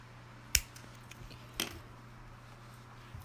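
Scissors trim cord for a raku pendant with two quick, sharp snips about a second apart, close and clear in a quiet room.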